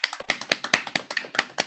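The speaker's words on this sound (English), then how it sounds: "give Paula the applause" Audience applause at a book launch, a sparse scatter of sharp, close claps from a small crowd, uneven in rhythm and lasting under two seconds.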